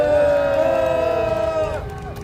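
A crowd at a Korean candlelight rally calling for the president's removal lets out loud, close cheers and shouts over a rumble of applause, and the noise tapers off toward the end.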